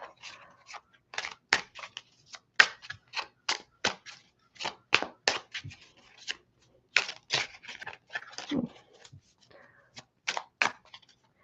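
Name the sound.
tarot cards being shuffled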